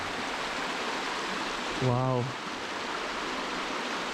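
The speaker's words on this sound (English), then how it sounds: "Proper waterfall and stuff there." A waterfall inside a caved-in cave gives a constant, rushing roar of falling water that fills the space, with one brief voice exclaiming partway through.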